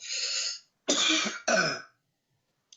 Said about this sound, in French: C'est une toux très sèche et très irritante.